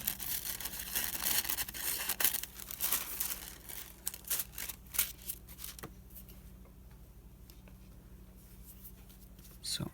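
Thin decorative tissue paper is snipped and handled at close range, with crinkly rustles and small cutting strokes that thin out toward the end.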